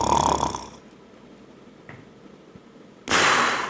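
A person imitates heavy snoring as heard in sleep apnea: a loud rasping snore, then a long quiet pause like stopped breathing, then another loud snorting burst.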